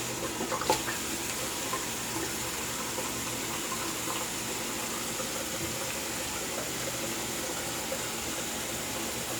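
Warm water runs steadily from a bathroom tap into a sink during a wet shave with a double-edged safety razor, a continuous close hiss with a brief splash near the start and no talking.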